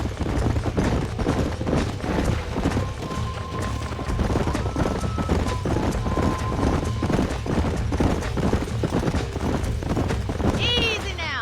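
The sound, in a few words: horses trotting in the video game Red Dead Redemption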